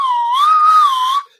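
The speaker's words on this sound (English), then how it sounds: "It's one of those bicycle pump whistles." A single clear bicycle pump whistle, loud and close, its pitch wavering gently up and down for just over a second before cutting off abruptly.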